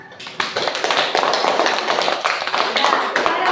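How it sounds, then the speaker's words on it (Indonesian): A classroom audience applauds after a student group's presentation: dense, rapid clapping that builds quickly and carries on steadily for several seconds. "Berikan tepuk tangannya."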